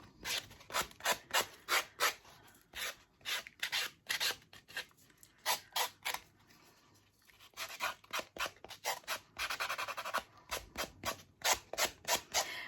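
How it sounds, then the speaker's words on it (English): Handmade chipboard has its edge sanded in quick, rhythmic rasping strokes, close and fairly quiet, with one short pause midway before the scrubbing resumes. "I'm just going to sand that a little bit further until I get it straight"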